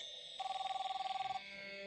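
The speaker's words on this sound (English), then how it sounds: "Is that my phone?" A mobile phone ringing nearby with a fast, warbling electronic trill that pulses rapidly for about a second, then stops, with a quiet room tone behind it and no talking.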